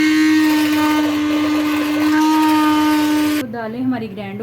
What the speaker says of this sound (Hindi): तो दालें हमारी ग्राइंड हो चुकी हैं।